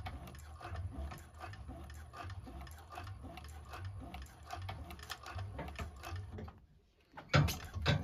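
A 1341 cylinder arm sewing machine stitching and backstitching a bag runs in a steady rapid mechanical chatter, then briefly stops before a louder burst of stitching at the end.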